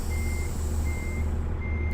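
Repeated backup alarm from a truck in the American Truck Simulator game, three evenly spaced beeps over a heavy, continuous low engine drone.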